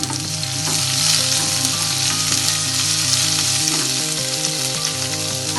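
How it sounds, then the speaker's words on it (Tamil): Ginger and green chillies sautéing in a pan for kara kozhukattai, with a steady loud sizzle and scraping stirs over an even, continuous hum, no voices. "இது கொஞ்சம் இஞ்சி, பச்சை மிளகாயும் சேர்த்துக்குவோம். இது கொஞ்சம் நல்லா வதக்கிக்குவோம்"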